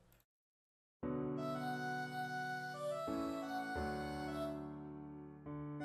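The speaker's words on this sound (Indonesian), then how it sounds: "Masih piano, terus ada strings." Soft sustained piano chords with strings behind them from an arrangement of a song from The Greatest Showman, entering after a brief silence and holding a steady, gentle level with a few chord changes.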